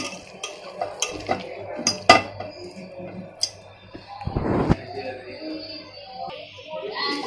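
An iron tawa griddle set down on a home kitchen stove gives a heavy clank around the middle, among scattered lighter clinks of pots and utensils, with a soft voice now and then.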